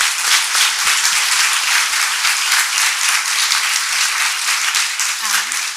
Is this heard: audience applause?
yes